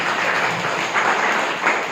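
Applause from an audience at a spiritual talk in Bagbahra, Chhattisgarh, a short, loud burst of clapping with a slight swell partway through, and no voices over it.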